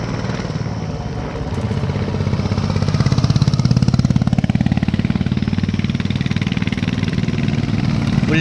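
A Royal Enfield Bullet motorcycle engine runs steadily on a mountain road, its loud, close, even thumping beat rising slightly in the middle and holding throughout with no voices.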